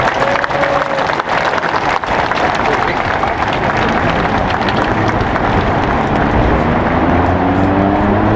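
A large graduation audience applauds the ROTC cadets, and the clapping stays dense and loud from start to finish with no pauses.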